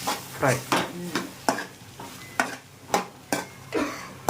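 Mango pieces are stirred and fried in a pan for pickle, with a series of distinct scraping stirs at a steady pace over a low sizzle, close and moderately loud.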